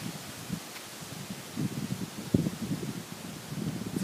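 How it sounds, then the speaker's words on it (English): Wind during Hurricane Isaac stirring a big backyard tree, a soft steady breezy rustle with gentle gusts and light wind buffeting on the microphone, fairly quiet with no talk. "It's a little windy, but it's such a beautiful breeze."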